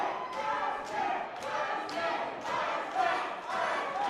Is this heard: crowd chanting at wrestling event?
yes